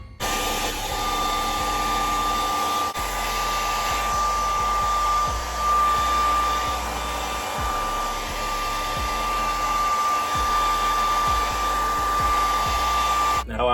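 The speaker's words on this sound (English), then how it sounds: "the last and final step you guys are gonna wanna do is go ahead and use a blow dryer." A blow dryer roars loud and close while drying men's natural curly hair, a steady whining motor tone broken by brief pauses and rhythmic low thumps as it moves.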